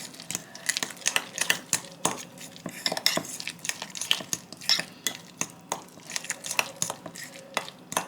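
A utensil stirring food coloring into sandwich filling in a bowl, a rapid irregular series of clicking, scraping taps against the dish, close and moderately loud.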